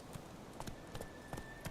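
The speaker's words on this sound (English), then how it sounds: "Geralt can always count on his horse, Roach, to help him in his travels." Geralt's horse Roach from The Witcher 3 trots along, a steady rhythm of faint hoof clip-clops over low game ambience, with no talking.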